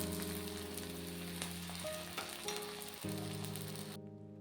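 Dahi dhapati fries in oil on a pan with a steady, close sizzle that runs continuously, shifts briefly near the middle, then cuts off abruptly at the end; no one speaks.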